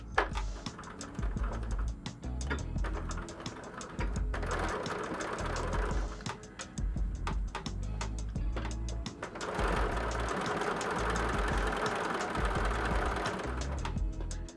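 A sewing machine sews a narrow seam of about 3 mm along a felt book cover, with a close, rapid mechanical patter that keeps going through the whole stretch with only slight dips in speed.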